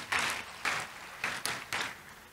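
A church congregation gives a few rhythmic rounds of clapping during a Sunday service, steady pulses of applause at moderate volume with no voices over them.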